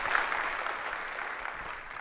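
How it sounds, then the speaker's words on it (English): Conference audience applause after a FinOps session talk, a steady wash of clapping from a crowd, moderately loud and fading slightly toward the end, with no voices over it. "Let's give Kate a big round of applause."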